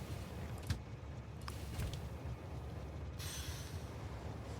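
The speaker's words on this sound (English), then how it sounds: "Sulfuric acid train is good to go. Let's turn you on." A freight train hauling sulfuric acid runs along the rails in a video game, giving a faint, steady rolling rumble with a few brief metallic squeals and clicks and no talking.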